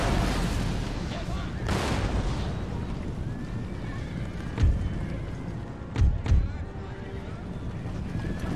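Battlefield gunfire and artillery in Empire: Total War, from a Prussia campaign: muffled distant booms, three heavier low thumps later on, over a rumbling background with a voice talking.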